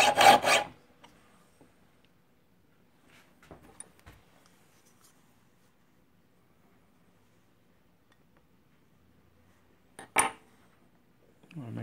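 A file sharpening the teeth of a dovetail saw makes two short rasping strokes, one at the start and one near the end, separated by long near-silence.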